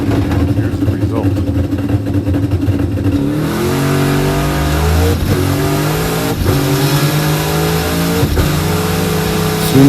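A rental race car engine revs on a track with a slipping clutch, the pitch climbing in rising sweeps and dipping between pulls, loud and close, with a voice talking over it.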